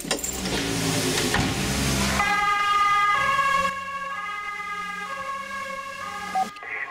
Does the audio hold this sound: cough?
no